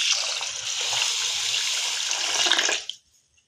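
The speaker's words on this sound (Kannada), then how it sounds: "ಈಗ ಇದಕ್ಕೆ ನೀರು ಹಾಕ್ತಾ ಇದ್ದೀನಿ ನಾನು." Tap water pours steadily onto washed, soaked lentils for dosa batter, a loud close gushing stream that stops abruptly near the end, with no one talking.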